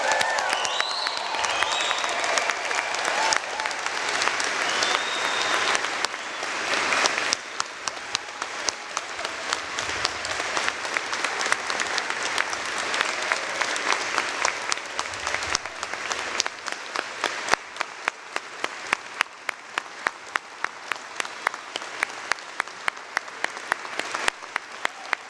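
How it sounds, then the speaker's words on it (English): A large convocation audience gives sustained applause for the graduating class, a broad wash of clapping that thins in the second half into steadier, more separated claps, with a few voices briefly audible early on. "please join me in applauding the graduating class of Fall 2021"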